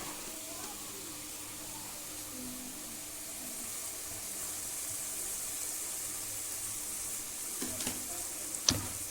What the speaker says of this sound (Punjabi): ਇਸ ਨੂੰ ਆਪਾਂ ਨਾਲ ਨਾਲ ਹਿਲਾਉਂਦੇ ਰਵਾਂਗੇ ਜਿਸ ਨਾਲ ਕਿ ਸਾਡਾ ਤੜਕਾ ਨਾ ਜਲ ਜਾਵੇ